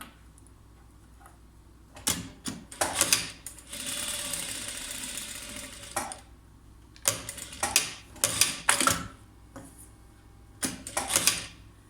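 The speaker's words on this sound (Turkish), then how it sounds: "Ve şöyle çevirip cep torbamı dikiyorum." A sewing machine stitches a side-pocket bag, several close bursts of rapid mechanical whirring broken by short pauses and handling clicks, with no talk.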